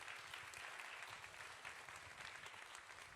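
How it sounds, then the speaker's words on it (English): An audience at a book talk gives a round of applause, with steady, even clapping heard at a distance and fairly quiet throughout. "Round of applause."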